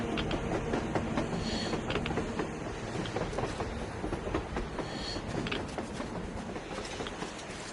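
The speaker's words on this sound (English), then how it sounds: "A train! A damn train on the surface!" A train rolling past on the surface in the video game Metro, a continuous rumbling clatter with rhythmic clicking of wheels, fairly close and sustained throughout with no talk.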